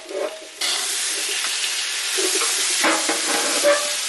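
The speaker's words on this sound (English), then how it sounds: "squirt a little water under them, and let them start steam cooking for a few minutes" A steady loud sizzle and hiss of potatoes steaming under a steam hood after water is squirted onto a hot Blackstone griddle, with occasional crackles and a brief scrape.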